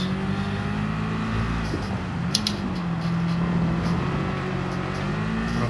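A Gran Turismo 7 race car engine drones steadily at high revs in a Mercedes-AMG during a wet-track race on intermediate tyres, a loud continuous hum with slight pitch shifts and no talking.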